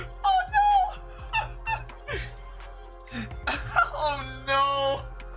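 Dog in the video game Genshin Impact whimpering and yipping in short high whines, several cries across the span, with a man briefly exclaiming over them.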